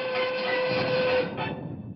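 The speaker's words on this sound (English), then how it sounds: "Do you hear that train pulling away?" A train rumbles steadily with a sustained whistle-like tone, then the sound thins and recedes slightly toward the end, as if moving off.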